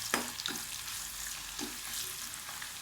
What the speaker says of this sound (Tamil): நல்லா வதங்கிட்டுங்க.